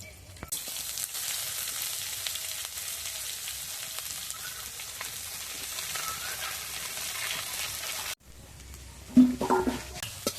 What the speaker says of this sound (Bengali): লাল লাল করে পেঁয়াজ ভেজে নিয়েছি